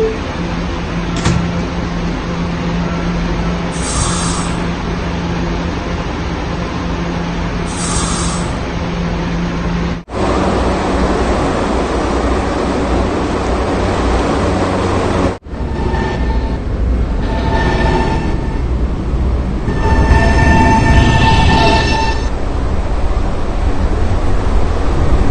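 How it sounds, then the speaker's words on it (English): A New York subway train at its last stop rumbles steadily, its doors closing with sharp thuds partway through before the train picks up and moves off with rising rolling noise and squeals. "Stand clear of the closing door"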